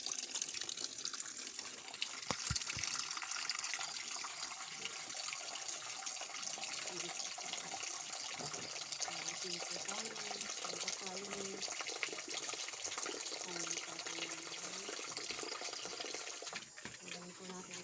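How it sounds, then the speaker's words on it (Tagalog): Water runs steadily from a tap into a bucket, a continuous rushing gush with a slight bubbling shift in tone as it fills, close and fairly loud for the whole stretch, with faint voices under it. "Pupuno po ako ng balde para sa kanilang tubig."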